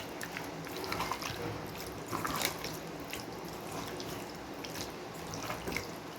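Boneless chicken pieces are mixed by hand with a little cornstarch and Kashmiri chili, giving a faint, continuous wet squelching and squishing with small liquid-sounding pulses.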